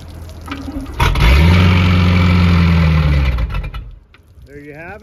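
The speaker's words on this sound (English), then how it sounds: "gonna do a quick video on the Bayliner firing up" A 1987 Bayliner boat engine cranks and fires up, settling into a loud, rumbling idle for a few seconds before dropping away, with a voice briefly heard near the end.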